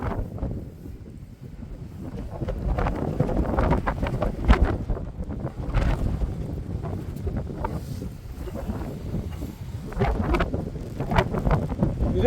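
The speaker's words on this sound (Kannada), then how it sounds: "ಸಿಕ್ಕಾಪಟ್ಟೆ ಗಾಳಿ ಇದೆ ಗುರು" Strong gusting wind buffets the microphone at a monsoon hilltop viewpoint in Chikkamagaluru, a loud, continuous low roar that swells and eases in waves with no one talking.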